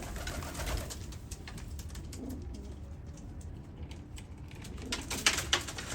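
Pigeons coo softly in low, throaty calls amid light clicks and rustling, with a few sharper taps near the end.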